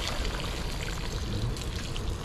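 Water pours in a dense, continuous splashing rush that stays loud and even throughout, with no talking over it.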